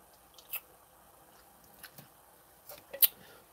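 Quiet close-up chewing of an MRE meal of water chestnut, rice and bamboo shoots, a handful of soft wet squishes and crunches spaced irregularly against near silence.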